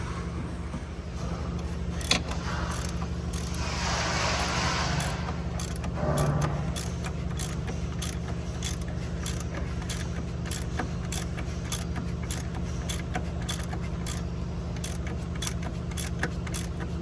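A socket wrench tightens a front crankshaft oil seal into its housing groove on a car engine, a steady run of rapid metallic ratchet clicks close up with light handling noise.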